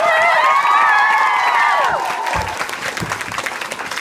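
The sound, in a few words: audience applause welcoming authors Holly Black and Cassandra Clare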